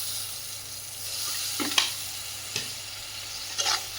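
Spice paste of chilli powder with a splash of water sautéing in a pan, a soft steady sizzle broken by a few scraping stirs of a spatula, close and fairly quiet.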